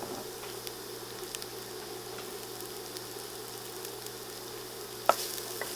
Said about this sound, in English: we're gonna start cooking off our garlic and olive oil